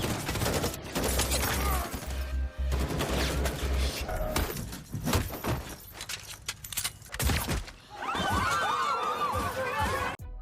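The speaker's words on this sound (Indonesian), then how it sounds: "Dalam aksi tembak-menembak ini, banyak anggota FBI tewas berguguran." Gunfire in a film shootout between FBI agents and a gang, with bursts of shots, clattering impacts and shouts mixed into loud action-scene sound, fairly close and continuous.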